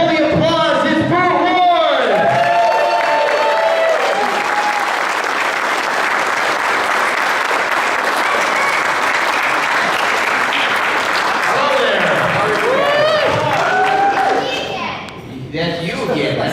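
A convention crowd at a Hammertown comic con panel applauds and cheers for Burt Ward, loud sustained clapping and whoops with children's voices and shouts rising at the start and end over the roar.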